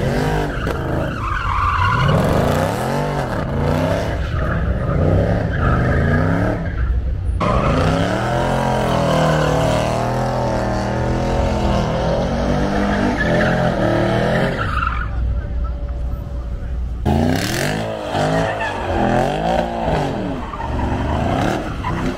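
Over a hundred Mercedes-AMG cars at a meet revving at full throttle together, a loud sustained roar of engines with rising and falling revs, squealing tires and brief lulls, a voice shouting over it at times.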